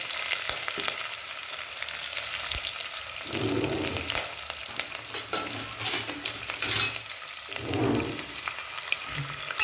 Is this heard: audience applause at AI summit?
no